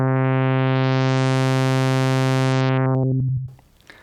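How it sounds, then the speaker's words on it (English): Casio FZ-1 sampler with its analog filter cutoff swept in small digital steps, giving a bubbly, stair-stepped sweep that rises then closes down over a sustained buzzy tone, ending in quiet noise. "The bubbly sound comes from the filter being controlled via small steps"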